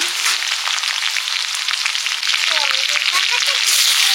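Shrimp frying with garlic in a hot pan, a loud steady sizzle with crackling spatters running throughout, close and unbroken.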